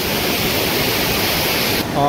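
Kalu waterfall in monsoon season, a steady, loud, close roar of falling water that rushes evenly throughout and shifts briefly near the end.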